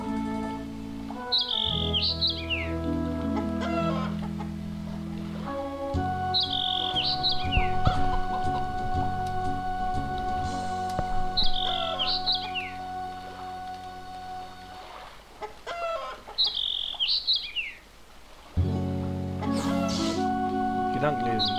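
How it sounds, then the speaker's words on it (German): Chickens cluck in the video game Vampires Dawn 2, short bird-like calls recurring every few seconds over steady looping game music, loud and close throughout. "dieses Gegacker. Der Hühner geht mir wirklich langsam auf den Nerven."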